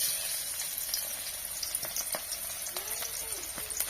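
Onion dropped into hot frying oil, a steady bright sizzle that runs throughout with small crackles and a faint stirring scrape, close and continuous, without talk.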